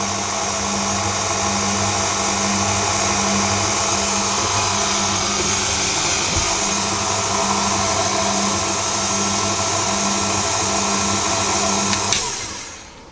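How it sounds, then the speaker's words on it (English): A stand mixer fitted with a paddle attachment mixes cake batter for a devil's food cake, giving a loud, steady motor hum and whir close up that runs evenly before stopping abruptly near the end. "I'm going to fit my paddle attachment and give it just a little mix around"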